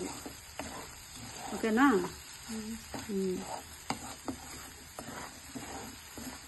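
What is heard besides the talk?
onion, carrot and egg bhurji frying in a pan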